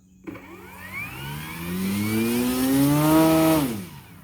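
The electric motor of an E-flite Carbon Z Cub SS 2.1m RC plane spools up from rest to a loud rising whine, holds high for a moment, then winds quickly down, with no voices over it.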